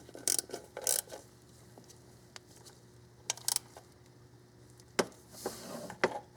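Bolt on the timing cover of a 1995 Oldsmobile 3800 V6 being torque-angle tightened, with close, sparse metallic ratchet clicks and short clanks in separate bursts over a faint steady hum.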